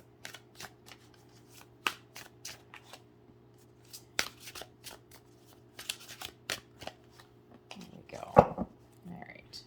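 A deck of tarot cards shuffled by hand in a quiet room, making repeated crisp riffling bursts and soft flicks spread through the clip, with a louder shuffle near the end.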